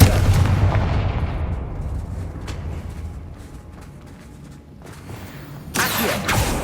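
A fiery Confringo spell blast in Hogwarts Legacy booms with a heavy rumbling roar that slowly fades, followed by a second crackling burst near the end.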